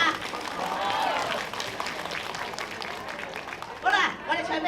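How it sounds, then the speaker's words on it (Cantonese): Concert audience in Singapore applauding for a Cantonese duo, a dense, steady wash of clapping and crowd noise that swells again near the end. "俾掌聲我哋好嗎？"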